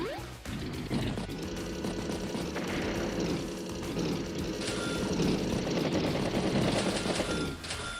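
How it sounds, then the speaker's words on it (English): Battlecopter attack in the video game Advance Wars, with helicopter rotor chopping and rapid machine-gun fire over game music, dense and loud throughout. "Battlecopter strikes Battlecopter."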